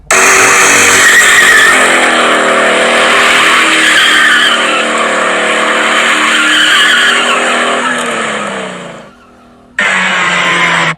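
An Audi Quattro station wagon launching and drifting: loud, sustained tire squeal over a revving engine, close by, fading briefly before the screech resumes.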